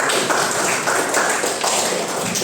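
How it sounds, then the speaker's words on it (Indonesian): A primary school class claps together for their own poster presentations, dense overlapping hand claps forming a steady, lively patter throughout, close and loud, with no speech on top. "Tepuk tangan buat kita semua."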